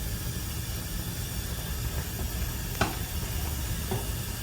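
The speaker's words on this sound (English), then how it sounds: "We're going to fry the meat mixture first." A meat mixture sizzles in hot groundnut oil in a pan, a steady close hiss with a couple of sharp scrapes from stirring and no voices.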